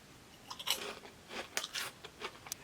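Crisp crunching and biting on chocolate-flavored layered Kkobuk chips, several close bursts of chewing spaced across the moment, fairly quiet with no talking.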